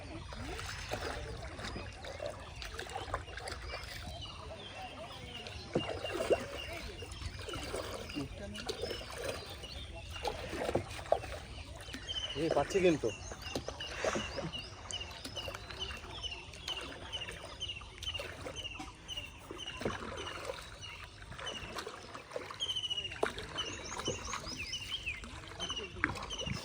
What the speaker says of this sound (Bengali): আজকে আমি নৌকা চালানো ট্রাই করব